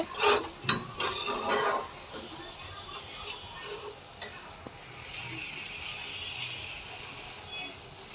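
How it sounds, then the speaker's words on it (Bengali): Masala cooked with sour yogurt for a katla fish kalia curry is stirred in a pan: a few sharp scraping clatters come first, then a faint, soft sizzle carries on quietly. "আর টক দই দেওয়ার পরে আমাকে মশলাটা সুন্দর করে কষাতে হবে।"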